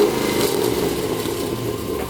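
A Pontiac G8 engine fitted with headers revs with a loud, throaty exhaust roar, holding steady for a couple of seconds close by.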